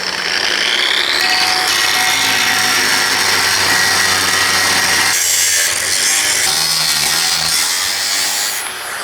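An angle grinder bites into a steel cross brace for a tiny-home base, a loud sustained high-pitched whine and grinding screech that shifts in tone midway as the cut deepens, with no talking.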